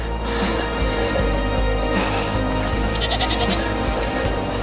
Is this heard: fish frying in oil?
no